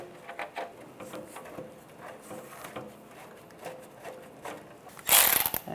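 Valve cover bolts being snugged down on a 1996–2002 Toyota 4Runner, a run of quick ratchet clicks and small metallic taps up close, ending in a louder burst of clatter.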